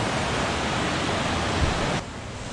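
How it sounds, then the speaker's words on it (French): Broad, steady rushing roar of a mountain torrent (gave) in the Pyrenees near Lourdios-Ichère, loud and close, dropping slightly in level near the end. "Donc ça, c'est le gave, ce que j'appelle le gave. Torrent de montagne."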